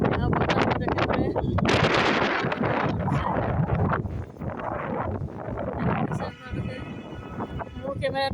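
Stormy rain-and-wind weather in Hyderabad, with loud gusts buffeting the microphone in a continuous rough roar and a voice partly heard under it.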